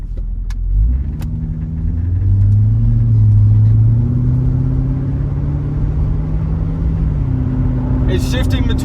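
A 2006 Chevrolet Corvette pulls out, its exhaust giving a deep, loud, steady rumble that swells as it accelerates and shifts smoothly between gears.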